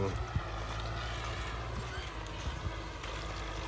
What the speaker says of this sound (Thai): เดินตามรถไถครับวันนี้